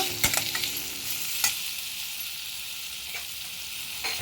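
Ginger and turmeric sizzle as they are sautéed in a pan for a vegetable upma, a steady, soft frying hiss with a few sharp taps of a stirring spoon, close and fairly quiet.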